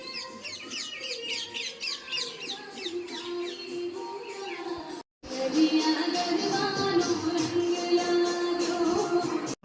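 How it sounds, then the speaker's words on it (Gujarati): A peacock calls outdoors near a house during a family Raksha Bandhan gathering. Loud, repeated harsh cries carry over mixed bird chirps and household background noise, and there is a brief dropout partway through. "જો મોર બોલી બહાર"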